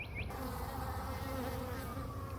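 Honeybees drone around an open hive, a steady close buzzing that holds throughout at low-moderate volume, with wingbeat pitches gliding as individual bees pass.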